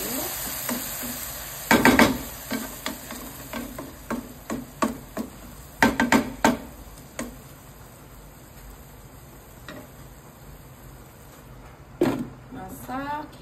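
Sautéed carrot in a frying pan gets stirred and scraped with a utensil, with repeated sharp clinks and scrapes over a soft sizzle as water is added, close and moderately loud, while a person talks.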